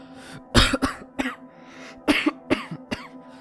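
Several separate coughs and throat-clearing bursts from one person, loud and close, in uneven groups of two or three spread across a few seconds, with quiet gaps between them.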